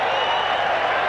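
Crowd at a 1990 Kiwis versus Great Britain rugby league test match applauding a goal kick, a dense, steady wash of clapping and cheering from a large stadium audience, with a commentator's voice over it.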